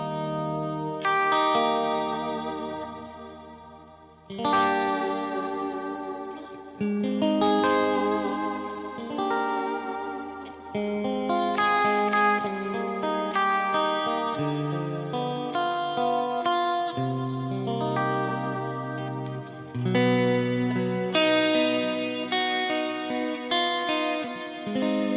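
Electric guitar chords played through a Fractal FM9 Mark II reverb block ring out with heavy reverb and chorus, each strum washing into a long shimmering tail; steady, loud, no voices.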